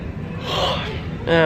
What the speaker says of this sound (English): And I gotta yawn.